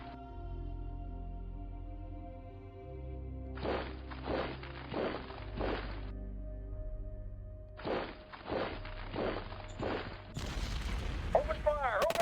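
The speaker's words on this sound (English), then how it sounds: "We're definitely taking gunfire." Gunfire in the strategy game Shadow Empire comes as two dense bursts of rapid shots over a steady low musical drone, each lasting a couple of seconds, followed by a louder crash near the end.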